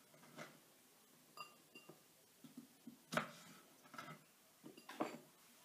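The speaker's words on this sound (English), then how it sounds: "Chopping it a bit smaller." A knife cuts a nectarine into smaller pieces on a cutting board, giving a series of sharp, irregular taps and clicks, close and fairly quiet, with about eight distinct strikes spread across the stretch.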